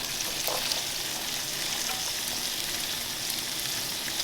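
A yellow Vidalia onion fries in olive oil in a pan, giving a steady, loud, even sizzle that runs unbroken throughout with no talking.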